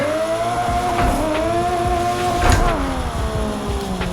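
A simulated drift car in Assetto Corsa holds third gear with a loud, sustained engine drone that dips and rises with throttle, joined by brief tire-squeal bursts and clatter.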